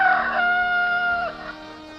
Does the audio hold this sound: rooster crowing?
yes